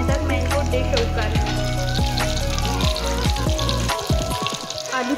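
Potato kebabs fry in a pan, turned to light brown, giving a steady crackling sizzle that runs throughout beneath loud, tonal background music.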